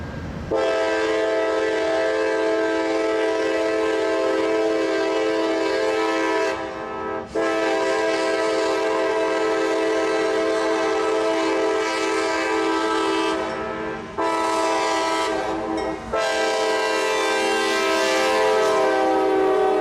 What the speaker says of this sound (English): running as we in the train business like to refer to as light power, which means only locomotive and no cars in tow